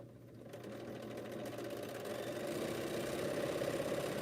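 A sewing machine sews a quilt block, a steady close motor hum with a rapid needle chatter that starts softly and grows a little louder and more even.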